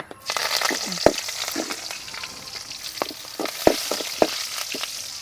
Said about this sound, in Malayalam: നമുക്കിനി ഇതിൽ ഇച്ചിരി കരിയാപ്പിലയിട്ട് പൊരിച്ചെടുക്കാം